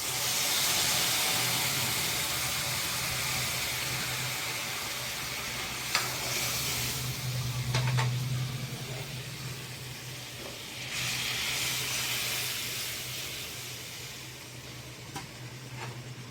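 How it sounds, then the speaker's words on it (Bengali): Pumpkin fries in hot oil tempered with cumin, dried chilli and bay leaf, making a steady, close sizzle and hiss that swells and fades over time, broken by a few light clinks of stirring. "জিরা আর শুকনো লঙ্কা তেজপাতা দিয়ে সম্বাদ দিয়ে ভাজা হয়ে গেছে কুমড়োটা"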